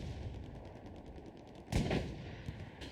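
Artillery fires in the video game Hell Let Loose during a competitive match, one heavy blast standing out above a busy bed of distant gunfire.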